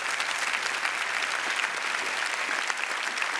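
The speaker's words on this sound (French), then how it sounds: "Eh ben on peut applaudir Alex, s'il vous plaît, vraiment." Audience applause fills a comedy show in Cannes, a steady, dense wash of clapping from a full crowd that holds evenly throughout with no talking over it.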